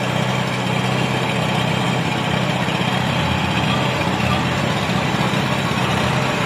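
A Kubota DC60 combine harvester's diesel engine, brought in for repair, runs steadily in a loud, continuous rumbling drone with no break across the clip.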